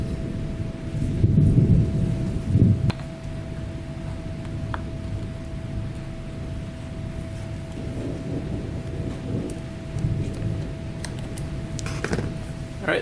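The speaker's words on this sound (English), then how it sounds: "it's raining pretty good outside right now. Nice thunderstorm going on." Steady rain and a low rumble of thunder from a storm outside, a continuous broadband wash with heavier swells near the start and again toward the end, plus a constant faint hum and occasional small clicks.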